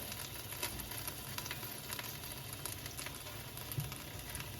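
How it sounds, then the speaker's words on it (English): Onions sauté in olive oil taken from sun-dried tomatoes, giving a close, continuous crackling sizzle with a steady, even texture and no voices. "we're gonna saute these for probably about 3 or 4 minutes"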